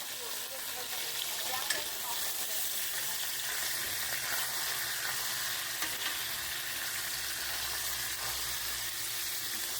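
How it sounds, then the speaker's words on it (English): Onions and bell peppers sizzle loudly in hot oil, a dense continuous frying hiss close up with occasional small pops throughout. "I have my onions and bell peppers right here. So I'm going to go ahead and add those in there"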